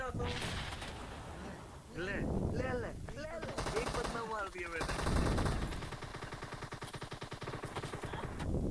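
Rapid bursts of video game gunfire crackle in quick succession, sharp repeated shots with a voice talking over them.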